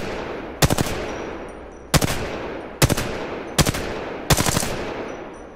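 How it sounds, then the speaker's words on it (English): Five sharp gunshots from the G7 Scout rifle in the video game Apex Legends, evenly spaced test fire with loud, punchy reports and short echoing tails, no talking. "the G7 Scout, and I guess this is actually the same gun, but let's go ahead and give it a test fire"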